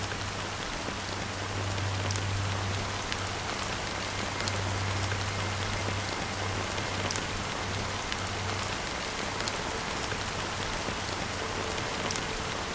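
Rain falls steadily in the video game Honkai: Star Rail, a continuous close patter of drops on surfaces with faint scattered sharper splashes and a low hum beneath, lasting throughout without speech.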